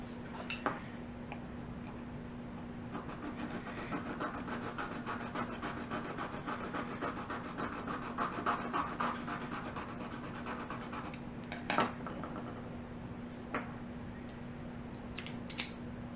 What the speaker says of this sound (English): We're going to have to do some filing on those.